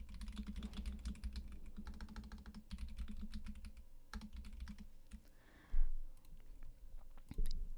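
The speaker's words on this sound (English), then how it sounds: "Oh my word, my typing is terrible today." Rapid, uneven typing on a computer keyboard, close and continuous, with a couple of louder clacks near the end and no talking.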